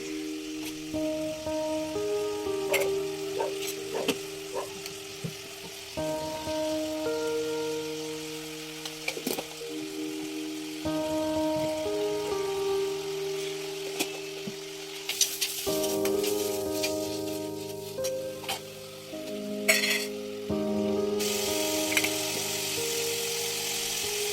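Shallots, green chilies, ginger and garlic sauté in oil in a pan as the base of a sardine curry in a Kerala village kitchen. Close, continuous sizzling crackles for the whole stretch over a faint tonal hum, with occasional clinks.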